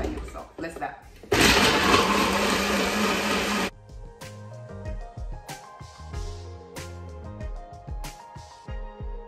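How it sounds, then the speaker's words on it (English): A Nutribullet blender blends a kale smoothie in one loud, steady whir lasting a couple of seconds, with clattering and knocking from handling the machine before and after. "It's the only blender I use, so let's zap."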